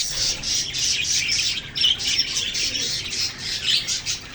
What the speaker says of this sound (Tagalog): Ang mga alaga kong parakeets